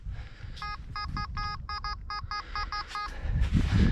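A Nokta 1st Swing children's metal detector sweeping a beach gives about a dozen short, bright beeps in a quick irregular run over low ambient noise.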